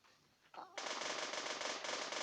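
Automatic gunfire in the video game Counter-Strike (CS:GO): a short lead-in, then a sustained, loud burst of rapid shots that runs to the end.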